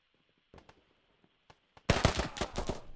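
Rapid bursts of automatic gunfire from the military shooter game Squad, a few scattered single shots and then a loud, dense volley of closely spaced cracks near the listener.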